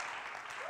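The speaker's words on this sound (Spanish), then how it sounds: "aplauso al Señor" Congregation applauding in a church service: a dense, steady wash of many hands clapping at once, close and sustained, with a voice faintly rising beneath near the end.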